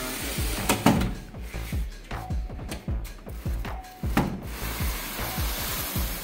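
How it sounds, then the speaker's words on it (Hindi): A wooden door fitted with a new bottom seal is pushed shut, giving a series of close, soft knocks and rubbing scrapes with short gaps between them and no voices. "इसके दरवाजे को हम बंद करके"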